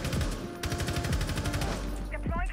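Rapid automatic gunfire in the video game Rainbow Six Siege, a dense continuous burst of shots lasting most of the moment, with a brief pause and a voice faintly underneath.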